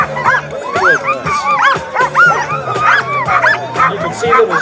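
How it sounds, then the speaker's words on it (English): Sled dogs bark, yip and whine excitedly at the start line of a sled dog race, a dense continuous chorus of many dogs close by, with some talk mixed in. "You can see that his dogs are rearing,"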